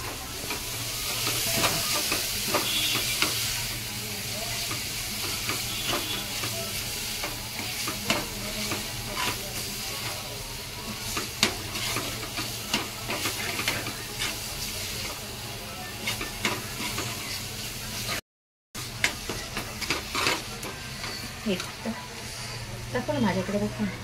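Chicken keema cooked in butter being stirred into an onion-garlic masala in a pan, with steady close sizzling and frying hiss and repeated scraping stirs throughout, and a brief dropout near the end.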